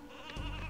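A sheep bleats in the video game Space Station Silicon Valley, one short, loud, close cry rising over game sounds.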